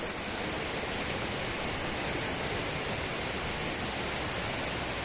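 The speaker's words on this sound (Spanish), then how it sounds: "allá podemos ver ya la cascada." A steady, dense roar of a waterfall in Xilitla, San Luis Potosí, Mexico, constant and full, with no break or other sounds over it.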